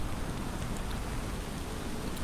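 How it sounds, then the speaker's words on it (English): Simulated rain plays in the background of a livestream tracking Typhoon Danas as it nears Taiwan: a dense, even hiss of falling rain that holds steady throughout, with no voices. "Why do you hear rain in the stream's background?"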